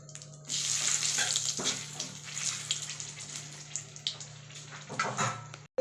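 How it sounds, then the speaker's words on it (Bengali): Cumin seeds, bay leaf and dried red chili tempering in hot oil in a Bengali kitchen for khichuri, giving a steady close sizzle and crackle for several seconds with a few sharper spits, no talking. "এবার এই তেলের মধ্যে জিরে, গোটা জিরে, তেজপাতা, শুকনো লঙ্কা ফোড়ন দেব।"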